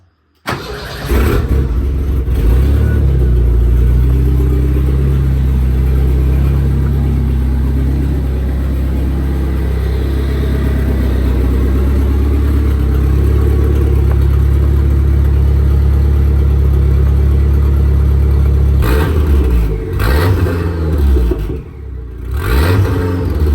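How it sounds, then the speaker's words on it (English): A 1959 Mercedes rat rod with a swapped chassis, its engine breathing through a 3-inch downpipe and race bullet muffler, starts and runs loud and close with a deep droning exhaust and revs for over twenty seconds. "I got the 3-inch downpipe with the race bullet muffler and another 90 just mocked up for now"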